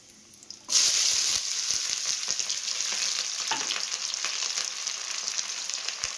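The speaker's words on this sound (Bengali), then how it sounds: "তো পেঁয়াজটা আমি ভাজা করছি লাল লাল করে" Chopped onion and a bay leaf hit hot oil with a sudden loud sizzle that settles into a steady, close frying hiss, with occasional stirring clicks against the pan.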